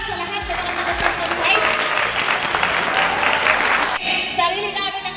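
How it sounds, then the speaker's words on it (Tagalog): Sustained applause from an audience at a 20th founding anniversary and awarding ceremony for the Santan community, dense and steady throughout before dropping off sharply near the end, with faint voices underneath. "Isa nga palakpak sa lahat ng mga Santan"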